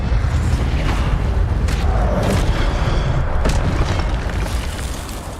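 The Incendio fire spell in Hogwarts Legacy bursts out as a loud, close, roaring blast of flame that rumbles steadily for several seconds and then fades.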